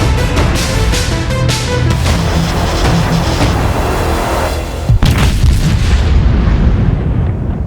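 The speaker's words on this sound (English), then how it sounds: "The 16-inch rifles on the Iowas were pretty much the epitome of naval gunnery." Heavy 16-inch naval guns on an Iowa-class battleship fire in a loud, continuous roll of booming blasts, followed by one sharp report and further rumbling.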